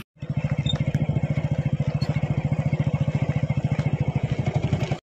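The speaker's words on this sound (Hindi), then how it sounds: "ये खड़ी अपनी हायाबूसा रेडी है चलने के लिए।" Suzuki Hayabusa motorcycle engine idling or running steadily, a rapid, even low-pitched pulsing throb that stays close and constant for several seconds before cutting off.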